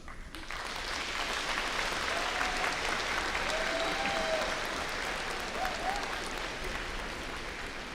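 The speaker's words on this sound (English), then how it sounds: "I would like to give you an opportunity with a round of applause to show your appreciation for all of those who have helped you" Graduates at a spring commencement give a round of applause, a steady, moderately distant wash of many hands clapping that starts abruptly and carries evenly for several seconds in a large venue.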